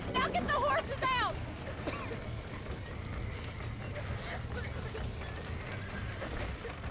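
Horses in Red Dead Redemption 2 whinny loudly at the start, then hooves clip-clop steadily through the rest under game background noise and a person talking over it.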